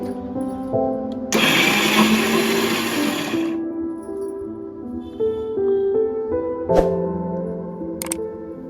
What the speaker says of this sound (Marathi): अशा प्रकारे आपण उरलेली सगळी डाळ जाडसर वाटून घेणार आहोत